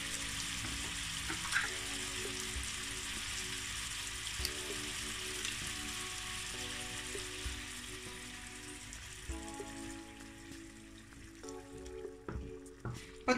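Salmon in a lemon and cream sauce cooking in a pan, a continuous close sizzle and bubbling that eases slightly near the end, with a few clinks and no talk.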